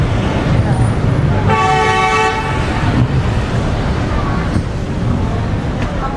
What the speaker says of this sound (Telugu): సో బస్సు వచ్చేసింది.